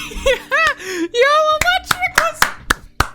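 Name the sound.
hand clapping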